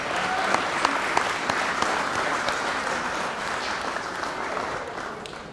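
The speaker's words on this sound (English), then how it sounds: "Let's give our servers a nice round of applause." A room full of guests at an awards dinner claps warmly for the servers, producing steady, dense applause that slowly fades near the end.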